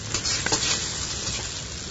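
Prawns frying in a hot pan for a prawn curry, a close, steady crackling sizzle with faint stirring taps, even in level for the whole short stretch.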